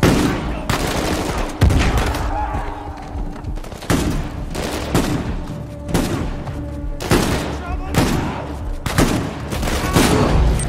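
Sniper rifle gunfire in the video game Uncharted 4, with loud, sharp shots repeating every second or two, each followed by a booming tail, mixed with other battle noise and no speech.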